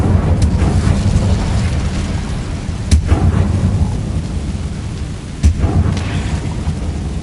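An Incendio fire spell cast in Hogwarts Legacy, a loud roaring whoosh of flame over a constant rumbling bed, with a couple of sharp bursts standing out, no talk.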